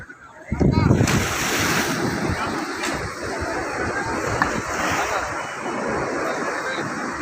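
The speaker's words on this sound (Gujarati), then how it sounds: "એટલો બધો જોરદાર ભરતી છે દરિયામાં." Strong high-tide sea waves surge against Gomti Ghat in Dwarka, a loud, continuous roar of churning water that swells sharply at the start and stays dense throughout.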